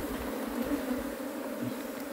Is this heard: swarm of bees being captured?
yes